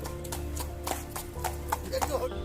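Horse hooves clip-clopping on a ride in Ooty, a steady, fairly close run of sharp hoof strikes over low background noise, with no talk over them.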